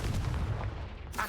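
The Confringo fire spell in the video game Hogwarts Legacy bursts with a booming, blast-like impact that fills the short moment, followed by a brief crackling tail.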